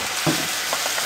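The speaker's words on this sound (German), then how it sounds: "Jetzt kommt die Hähnchenbrust gleich dazu" Chicken breast added to a hot pot while making soup, giving a short burst of sizzling and frying hiss with a soft stirring clunk, heard close.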